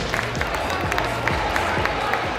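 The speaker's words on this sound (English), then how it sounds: "let's have a round of applause for our match officials, everybody" Crowd applause and cheering for the match officials at a university netball championship final, a steady wash of clapping filling the hall with a few sharper claps and voices mixed in throughout.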